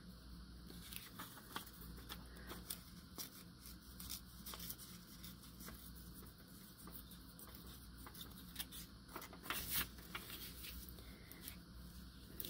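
A paper file folder torn by hand without scissors, giving soft rustling, crinkling and scratchy ripping textures in short irregular bursts, close but quiet with no talking.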